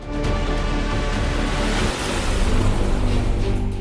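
Rough sea waves roar along the eroding Uppada shore, a continuous loud, broad rushing surge with a brief dip midway, heard without any talking.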